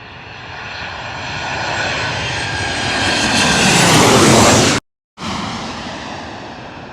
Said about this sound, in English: Boeing 737 coming on in. This is probably going to be a lot louder than a Mitsubishi we just heard.